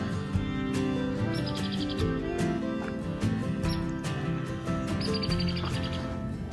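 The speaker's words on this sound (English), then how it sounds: "And the sounds, pretty birds" Bright chirps and warbling bird calls repeat throughout over a steady bed of music-like tones, fairly close and continuous.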